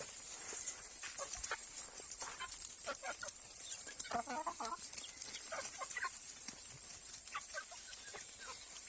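Thai backyard chickens cluck in short bursts at close range, with occasional rustling and light talk in the background.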